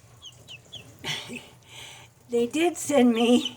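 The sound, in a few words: chicks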